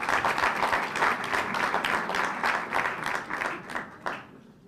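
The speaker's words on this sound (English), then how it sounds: "Give yourselves a good round of applause." An audience at a forum applauds with dense, steady clapping that swells in waves and then thins out toward the end, fairly close and alone without talk.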